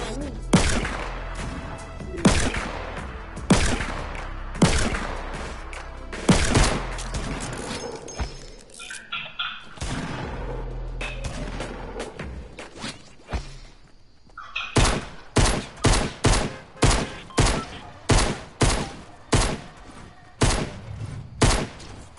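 Repeated gunshots from people firing guns outdoors, with irregular heavy bursts early on, then a steady run of about a dozen evenly spaced loud shots near the end, with voices faintly present.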